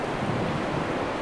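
Steady surf at the beach on a sunny, bright day at low tide, a continuous broadband wash of waves with some wind rumble, no talking.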